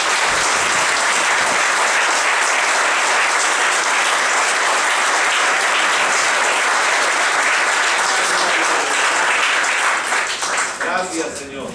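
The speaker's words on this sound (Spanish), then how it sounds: "Démosle un aplauso al Señor." Loud, sustained applause from a large church congregation fills the room, steady throughout and tapering slightly at the very end.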